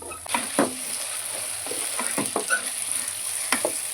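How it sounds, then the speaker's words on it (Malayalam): Crushed ginger garlic paste sizzles as it fries in a pan while a spoon stirs and scrapes it in irregular strokes, close and moderately loud, with no voices. "ഇനി നമുക്ക് ഇഞ്ചി വെളുത്തുള്ളി പേസ്റ്റ് ചതച്ച് വെച്ചത് അത് അതിലിട്ട് ഒന്ന് ആ ഒരു സ്മെല്ലൊന്ന് മാറുന്ന വരെ നമ്മളൊന്ന് ഇളക്കി കൊടുക്കാം"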